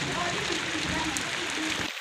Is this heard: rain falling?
yes